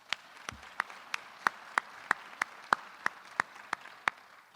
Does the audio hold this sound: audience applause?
yes